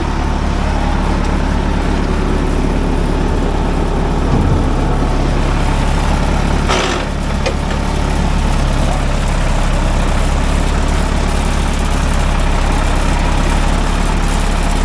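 A tractor engine idles steadily in a low, even rumble throughout, with a brief louder thump partway through.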